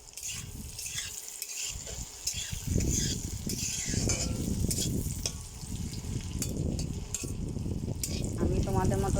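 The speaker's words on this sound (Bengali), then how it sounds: "এবার এটাকে আমি ভালো করে ভাজবো।" Jackfruit pieces fry in a pan with a steady close sizzle, broken by stirring scrapes and clatter, fairly loud and continuous with no talking.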